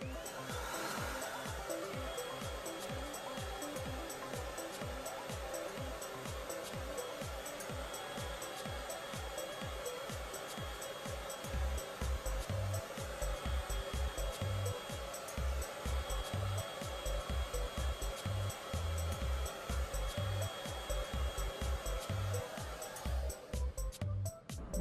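A hair dryer blows steadily and loudly while hair is dried from above, with rhythmic low thumps and rustles as the hair is pressed and moved by hand, until the airflow cuts off near the end.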